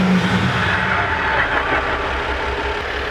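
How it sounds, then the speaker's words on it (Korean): Deep, steady idle of a Maserati Levante diesel engine, heavy on low rumble, holding constant and close for a few seconds with no voices. "디젤 엔진에서 나오는 소리라고 믿어지지가 않는 그런 사운드가 나네요."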